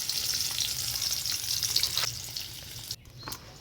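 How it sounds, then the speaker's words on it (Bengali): Eggs sizzling and frying in hot oil in a wok, a steady close crackle with a brief clatter near the end. "তারপর আমি এই ডিমটা কড়ার মধ্যে ছেড়ে দেব। ডিমগুলো ভালো করে ভেজে নেব।"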